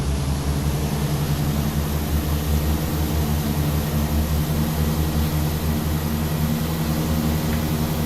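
Twin engines of a Tecnam P2006T at takeoff power in X-Plane 12, a loud, steady propeller drone with a deep, constant hum and no pauses.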